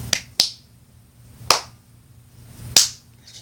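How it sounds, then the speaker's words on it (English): Four sharp, isolated snaps or claps ring out close by at uneven intervals, each brief and crisp with quiet gaps between. "It's just fun clapping, I don't know why."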